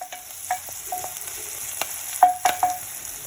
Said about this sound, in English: add in your mustard seeds. Give these ingredients a good stir